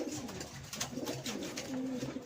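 Sevillano pigeons cooing, soft rolling coos repeating at a relaxed pace, close but quiet, with a light background hiss.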